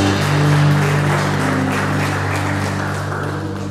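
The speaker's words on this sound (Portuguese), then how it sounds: "Vamos aplaudir Jesus bem forte." A congregation applauds in church in a continuous wash of clapping over a sustained musical drone, with the clapping easing off gradually toward the end.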